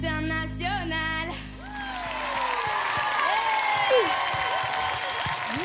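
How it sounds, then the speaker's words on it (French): A studio audience applauds and cheers for a young girl on a French TV talent show for young fans, a steady wash of clapping and whoops following the end of a song with sung and spoken voices fading out early. "applaudissements pour notre jeune fille aujourd'hui dans l'école des fans nouvelle génération"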